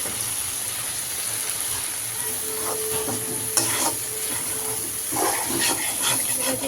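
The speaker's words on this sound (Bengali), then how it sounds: "আলু দিয়ে লইটা শুটকি ভাজি ঝাল তেল একেবারে কম কম দিয়ে আস্তে আস্তে রান্না করতেছি" Loitta dried fish (shutki) frying with potato in a little oil, a soft close sizzle with intermittent scraping stirs of a spatula, louder toward the end, no talking.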